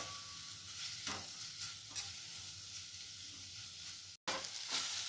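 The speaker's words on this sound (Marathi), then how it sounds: "आणि त्याला छान परतून घ्यायचं आपल्याला। एक साधारण 3 ते 4 मिनिटं सतत हलवत राहायचं आहे।" Raw mango pieces sautéing and being stirred in a pan for a sugar-mango preserve, a steady close sizzle with occasional scrapes of the spoon and a brief cut near the end.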